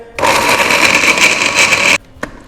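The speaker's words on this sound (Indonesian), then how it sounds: "Habis itu langsung kita blender." An electric blender whirs loudly and steadily for about two seconds, grinding a spice paste of bird's eye and red chilies with red ginger, then cuts off abruptly with a faint clunk after.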